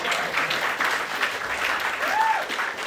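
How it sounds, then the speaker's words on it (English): An audience claps steadily at moderate volume for a few seconds, with a faint whoop rising briefly near the end. "How about a round of applause?"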